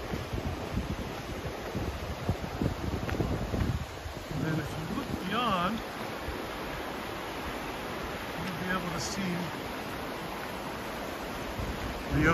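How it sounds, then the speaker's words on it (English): Steady ocean surf and gusting wind at Short Sand Beach on the Oregon coast, a constant loud wash with rumbling wind buffeting the microphone throughout. "Ocean."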